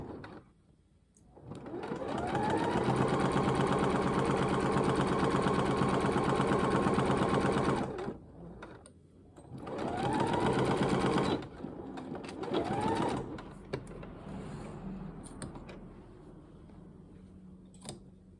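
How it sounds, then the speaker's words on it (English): A sewing machine runs a long back-stitched seam on a pair of trousers, a loud steady whir that lasts several seconds, stops, starts again in shorter bursts and ends in quieter handling sounds. "we're doing a back stitch. And we're just going to stitch all the way to the end"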